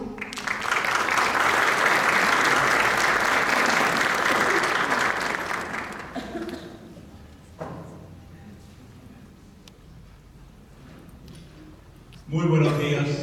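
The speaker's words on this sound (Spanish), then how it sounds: "Le damos un aplauso." An audience at a diocesan educators' congress claps for the education director, loud sustained applause for about six seconds that fades, followed by someone speaking.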